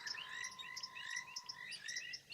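A thick-knee bird's repeated high calls rise over a dense, steady frog chorus at sunset on safari, the calls coming in bursts near the start and end.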